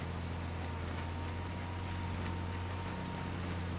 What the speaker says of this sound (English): Actually, look, it's raining.